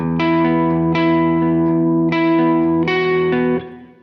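Heavy, thick distorted tone from a PRS McCarty electric guitar on its humbucker pickup, several sustained chords strummed one after another, ringing out loudly and fading at the end.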